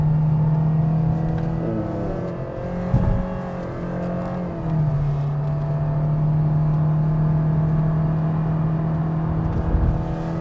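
A 2023 Toyota Vios engine pulls steadily uphill on a mountain climb with paddle-shift gear changes, its drone dipping and rising around downshifts, loud and continuous from inside the cabin.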